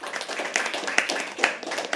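An audience at a live poetry open mic at The Habitat claps for a first-time performer, a burst of scattered hand claps with irregular louder peaks and no speech.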